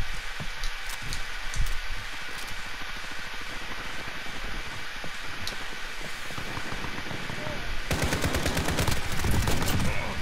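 Rapid automatic gunfire in the Call of Duty: Modern Warfare video game, sustained bursts from a prone shooter with crackling shots throughout, turning into dense continuous fire in the last couple of seconds.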